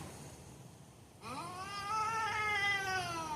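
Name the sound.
cat meowing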